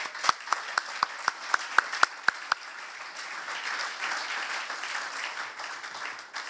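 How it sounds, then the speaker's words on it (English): A few sharp, separate handclaps ring out first, then swell into a broad round of audience applause honoring health center staff, sustained and fairly close without talk. "Please join me in giving them a round of applause."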